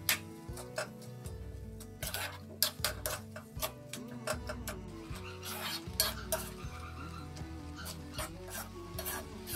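Carrot halwa with sugar is roasted on high flame and stirred: sharp, frequent spoon taps and scrapes against the pan in an irregular rhythm over a faint sizzle, set under steady background music.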